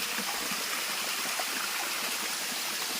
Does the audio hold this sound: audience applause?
no